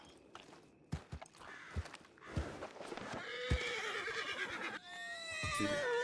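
A horse in a Red Dead Redemption 2 roleplay game whinnies in a long, rising and falling call, with hoof clops and shuffling footsteps nearby before it.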